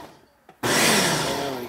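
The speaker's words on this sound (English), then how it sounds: "let's blend this up for a sec." A blender starts up on homemade salsa with Carolina Reaper peppers, cutting in abruptly after a brief quiet moment and running as a loud, steady whirring roar.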